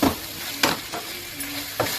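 A utensil stirs and turns breaded chicken frying in an oiled pan, three distinct scraping strokes over a low, steady sizzle, close and fairly quiet.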